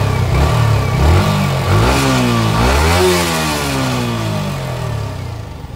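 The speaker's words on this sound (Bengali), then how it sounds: "এবারে হচ্ছে ইঞ্জিনের সাউন্ড শোনেন" A Yamaha R15 V4 motorcycle engine is revved loudly up close, climbing and falling in several throttle blips before settling back toward a rough idle.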